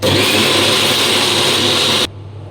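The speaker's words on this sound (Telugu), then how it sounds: "మిక్సీ అయితే కొడుతున్నాను చూడండి ఒకసారి" A mixer grinder blends a paste at full speed, giving a loud, steady close whir that runs for about two seconds and then cuts off abruptly.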